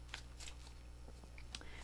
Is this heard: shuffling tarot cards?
yes